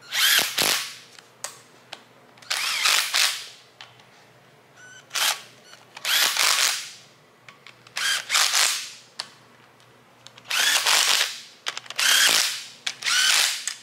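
Bolts on a welded Nissan 350Z / Infiniti G35 differential cover are run down with a power tool, giving six or seven loud, separate bursts of a few seconds each with short pauses between, close by and with no talk.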